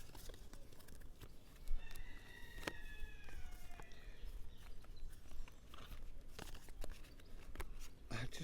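A rooster crows once at middle distance, amid scattered outdoor bird calls and clucks, with light footsteps and handling noises nearby.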